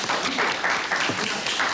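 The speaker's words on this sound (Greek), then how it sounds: "Το χειροκρότημά σας για τα Ζωνιανά." An audience at a Greek music evening applauding, dense continuous clapping from many hands filling the room, loud and sustained.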